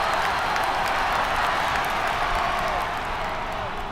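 A stadium crowd in an Australian Rules football video game roars and cheers in a steady, loud, dense wash of noise that holds throughout and eases off slightly at the end.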